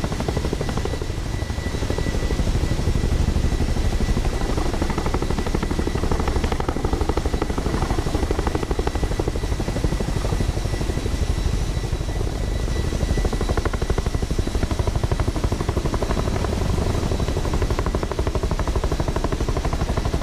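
Heavy, continuous rotor roar of a Chinook helicopter hovering in ground effect near a mountain peak, with strong steady rotor wash throughout and no voices.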